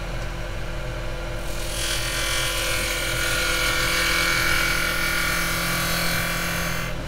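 A woodturning chisel cuts a tea-light holder spinning on a lathe, giving a steady, loud whirring hiss that swells after the first two seconds and holds continuously, with no talk.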